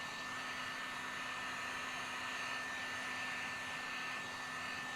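Heat gun blowing steadily while shrinking window tint film on a Chrysler 300 windshield, a constant close airy roar with a faint whine, alone and unbroken.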